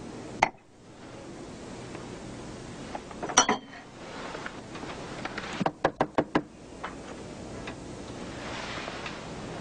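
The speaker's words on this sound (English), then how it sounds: "Cheryl, get rid of the glass." Glassware clinks and knocks as glasses are cleared from a bar counter, a sharp bump, a small cluster of taps, then a quick run of five or six rapid clinks over quiet room tone.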